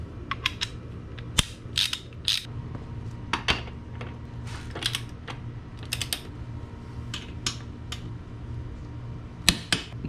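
A torque wrench ratchets a motorcycle rear axle nut tight with a 24mm socket, giving bursts of quick metallic clicks, close and crisp, separated by short pauses.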